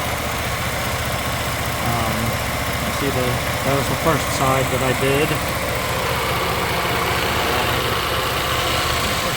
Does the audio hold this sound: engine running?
yes